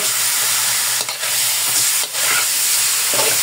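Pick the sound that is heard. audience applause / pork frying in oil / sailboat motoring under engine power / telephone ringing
pork frying in oil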